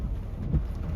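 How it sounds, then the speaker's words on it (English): Steady rain pours down outside a mobile home near a carport, a dense, even hiss with a low rumble beneath it and no voices. "You can kind of see it's raining a little harder."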